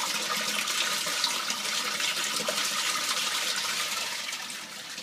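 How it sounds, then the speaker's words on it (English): Water gushes steadily out of an aquaponics grow bed as its bell siphon kicks into a full drain, a loud continuous rushing flow that eases slightly toward the end. "you'll know when the drain fully starts because it'll really be gushing out"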